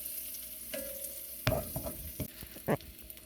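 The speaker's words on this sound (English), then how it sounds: "And they bubble and spit and stuff, and they make a good smell." Food frying in a home kitchen pan, a steady sizzle with bursts of spitting and bubbling, plus a few louder clatters of stirring, heard close up with no talking.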